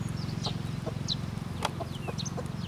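A broody hen sitting on her eggs gives a run of low, rapid clucks, steady and close, with a few sharper higher calls breaking in over the top.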